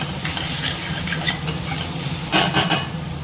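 A coconut and salt mixture stirred in a pan, giving a continuous close sizzle with repeated scraping strokes of the spoon, fairly loud and uninterrupted.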